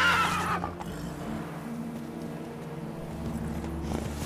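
A horse in the video game The Witcher 3 whinnies loudly at the start, then its hooves keep up a steady galloping rhythm under a low droning game soundscape.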